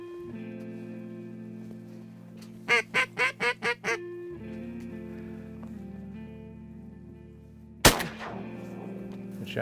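A single sharp shotgun blast goes off at ducks during a greenhead hunt on Golden Pond. It comes after a quick run of six loud quacks and rings out briefly against faint background hum.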